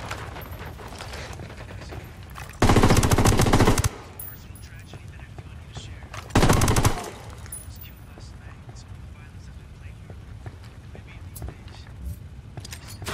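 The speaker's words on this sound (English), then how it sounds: "Taking fire from the parking area." Two loud bursts of automatic gunfire in Ghost Recon Wildlands, a long rattling volley followed a few seconds later by a shorter one, over a low background of game ambience.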